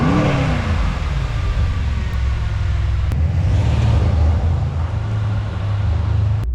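Mercedes C63 S V8 cold start in Sport Plus mode, a loud, steady, deep engine rumble held at a high idle throughout, close by and with no talking.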